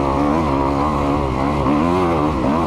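A Kawasaki KX250X dirt bike engine snarls loudly and up close on snow, its pitch rising and falling in rolling throttle surges throughout.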